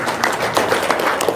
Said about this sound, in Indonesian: Tepuk tangan dong, kasih semangat.